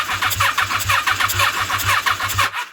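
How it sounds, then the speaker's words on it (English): A motorbike engine cranking over without firing while checking for spark on a bike with a no-spark fault, a loud, fast rhythmic chugging of the starter that runs steadily before cutting off abruptly, close and without talk. "You're going to go and put it on that and crank the bike over."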